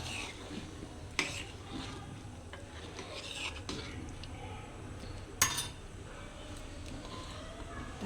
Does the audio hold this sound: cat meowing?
no